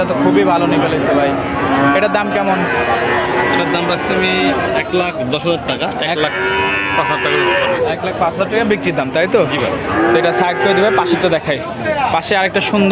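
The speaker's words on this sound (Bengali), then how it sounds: "চমৎকার একটা ডাবল বডির গরু" A Holstein Friesian heifer lows repeatedly at a busy cattle market, its moos rising over constant nearby talk and crowd chatter that runs through the whole stretch.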